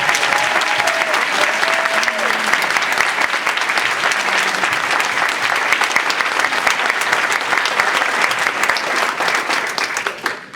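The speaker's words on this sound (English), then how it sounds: "Let's all give them a round of applause." A large conference audience gives loud, continuous applause at an evening recognition session, a thick, even wash of clapping lasting about ten seconds before tapering off.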